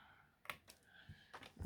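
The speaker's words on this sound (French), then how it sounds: "Je coupe ce qui dépasse de ma pliure." Scissors snipping through folded paper card during a handmade card project, a few short, quiet crisp cuts spaced apart, close by, with no talking.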